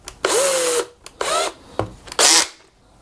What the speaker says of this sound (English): Okay, get the drill bit inside.